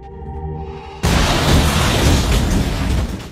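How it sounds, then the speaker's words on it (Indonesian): A bomb strapped to a man detonates in a film scene: a sudden loud, deep boom cuts in after a low tonal rumble and roars on as a sustained blast that slowly fades. "mereka menemukan satu orang yang sudah dipasangi bom dan saat itu juga langsung meledak"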